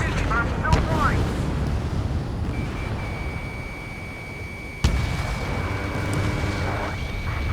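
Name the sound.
explosion in the video game Ace Combat 7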